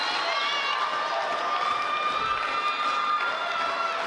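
A wrestling crowd roars and cheers for wrestler Justin Turnbull, a sustained wash of shouting voices with a steady hum under it.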